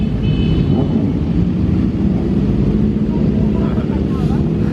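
A steady low engine roar of many motorbikes ridden by people dressed as Father Christmas passing nearby in Lanzarote, continuous and loud throughout without pauses.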